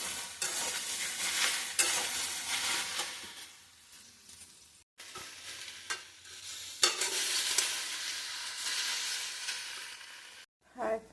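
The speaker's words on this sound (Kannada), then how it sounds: "ಬೆಂಡಿ ಒಗ್ಗರಣೆ ಹಾಕಿ ಎಣ್ಣೆ ಕಾದಿದೆ ಅದರಲ್ಲೇ ಜೀರಿಗೆ ಜೀರಾ" Cumin seeds sizzling in hot oil as a tempering for okra, a steady bright crackle with stirring scrapes, dropping out briefly mid-way before resuming loudly, with no talking.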